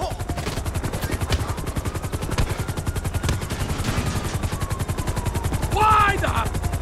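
Helicopters chop overhead in GTA V amid steady rapid gunfire, the rotor pulse running continuously throughout, with a burst of distorted radio-like chatter near the end.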